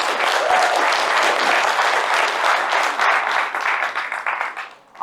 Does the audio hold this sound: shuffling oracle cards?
no